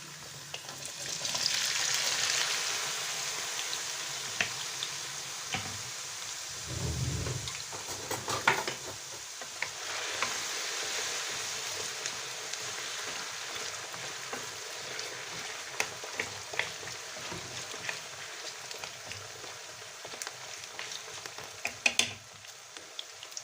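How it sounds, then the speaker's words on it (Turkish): Diced potato cubes fry in hot oil for Albanian-style liver, giving a steady, close sizzle with occasional stirring clatter and no voices. "patateslerimizi kızartana kadar pişirelim"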